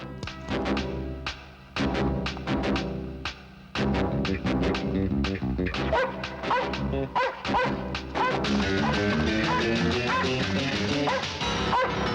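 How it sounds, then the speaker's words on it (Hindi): A police dog is released at a crime scene to sniff a body, letting out a quick run of loud, close barks, yips and whimpers in an uneven rhythm over a dense backdrop. "कुत्ते को छोड़ दो।"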